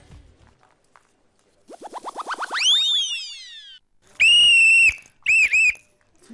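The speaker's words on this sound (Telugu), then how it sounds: "మేము వేసాం ఫస్ట్ విజిల్." Whistles blown by competing teams on a Telugu television game show, a rising series of short toots swelling into a long sliding blast, then a loud sustained shrill blow and two quick sharp bursts, close and clear with no talk.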